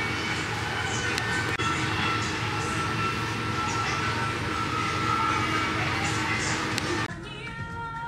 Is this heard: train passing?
yes